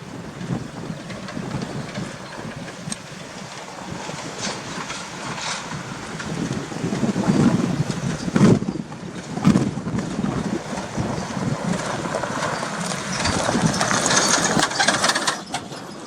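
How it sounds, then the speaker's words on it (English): A farm vehicle rolls down a country road in a valley, a steady rumbling engine and rattle that grows louder midway as it nears, then continues at a moderate distance. "It's definitely a farm vehicle, so he must be from one of the farms, this guy coming down the road."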